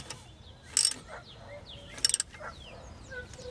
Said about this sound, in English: we'll put our 9/16 back on our ratchet, and get our 9/16 combination wrench. Hold that right here, hold this right here, and tighten it all back down.